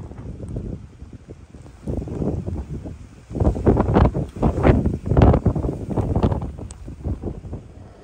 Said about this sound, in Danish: Snevejr og godt med vind.